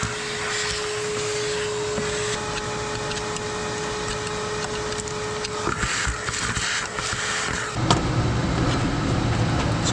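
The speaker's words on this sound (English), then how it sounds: "Vacuum all that out of there before we pop this cover off." A vacuum cleaner runs loudly and continuously, its pitch shifting as it sucks debris out of an old Chevy truck engine, with clattering bits rattling through the hose.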